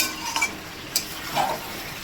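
Chicken being sautéed in a pan with stirring, a soft steady sizzle under a few sharp scrapes and clinks of a spoon against the metal, close and fairly quiet.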